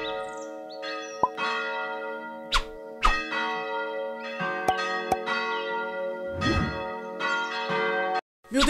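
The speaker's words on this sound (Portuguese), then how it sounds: "Tá tocando o sino já?" Church bell in the video game Minecraft rings in a series of loud, resonant strikes with long overlapping tonal decay, struck irregularly over several seconds with no voices.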